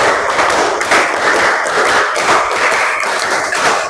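A classroom group claps a counted pattern together, with dense, loud claps in quick bursts that run straight through without talk.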